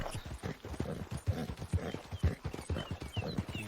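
A ridden horse's hooves clip-clop at an even walking pace, in soft, regular, moderately close beats.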